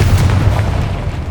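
Confringo explosive spell in Hogwarts Legacy, a single loud, deep boom with a low rumbling body that lingers briefly and fades.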